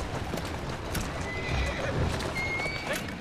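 A horse whinnies and its hooves clip-clop in Assassin's Creed Syndicate, with a brief neigh over soft, steady hoofbeats and street ambience, fairly quiet and with no speech.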